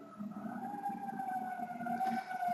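Emergency sirens wail outside, faint and distant, with a steady rising and falling tone and no voices.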